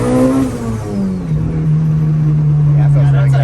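A turbocharged 500-horsepower Honda Civic with its exhaust cutout open accelerates nearby, its loud engine note rising and then holding steady.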